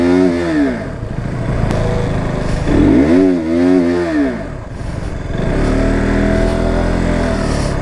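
Modified KTM Duke 390 motorcycle engine revs loudly and close in repeated rising and falling bursts, then settles into a steady throaty idle, with no talk over it.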